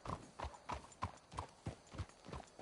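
Horse hooves clip-clop in a steady rhythmic walk in the Western video game Red Dead Redemption 2, close and moderately loud with no talk.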